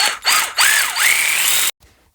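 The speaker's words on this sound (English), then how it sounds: "I'm just going to drill through the centre of this to get the position of the waste." A drill whines at high speed, its pitch sagging and rising as the bit bites through metal, then cuts off abruptly, leaving quiet.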